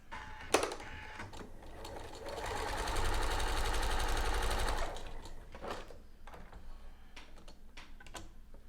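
A sewing machine at a short stitch length sews a quarter-inch seam on a sleeve bias band, giving a close, steady mechanical whir lasting a few seconds. Light handling clicks and rustles come before and after, with no voices.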